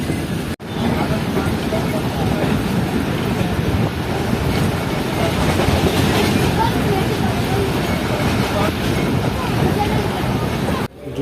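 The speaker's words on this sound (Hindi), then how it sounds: "ट्रेन काफ़ी स्मूथ चल रही है हैदराबाद से चलने के बाद" Pak Business Express passenger train running smoothly on a well-kept track out of Hyderabad, heard from inside as a continuous rumbling roll with wind noise and faint rhythmic track clatter, and someone speaking over it.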